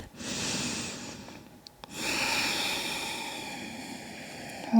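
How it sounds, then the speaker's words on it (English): A deep breath during a gentle heart-opening yoga practice, a long airy inhale then a fuller exhale, close and fairly soft, with no voice over it. "One more breath."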